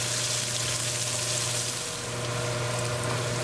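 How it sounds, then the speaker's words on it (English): Chopped onion fries in a hot pan for rice pilaf with a steady, dense sizzle that holds constant throughout. No one speaks. "Cooking onion for 2 minutes."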